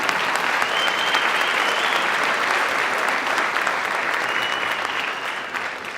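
Sustained audience applause fills a student recognition ceremony for Mexican American Student Services, dense and steady throughout, easing slightly near the end.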